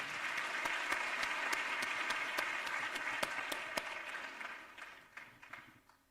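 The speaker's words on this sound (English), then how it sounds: "A round of applause for all of us." Applause from a lecture hall audience at a memorial lecture, a steady wash of many hands clapping with sharper individual claps on top, fading away over the last second.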